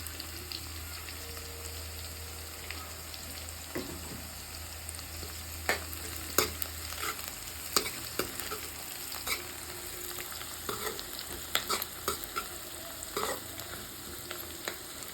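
Cashews frying in a pan with onions for upma, a soft steady sizzle broken by scattered spatula scrapes and taps, close and fairly quiet over a low background hum.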